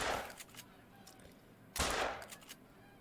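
Two loud rifle shots in the hunting video game theHunter during a goose hunt, each a sharp crack trailing into a long echoing decay, about two seconds apart, with no talk.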